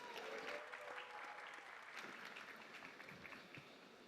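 Graduating class of 2025 applauding themselves at Ashesi University commencement, a faint, distant, continuous patter of many hands clapping in a large crowd, holding steady throughout.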